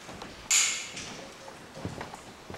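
Theater doors swinging open together with a single sharp creak, fairly close and loud, then fading into quiet room noise with faint shuffling afterward.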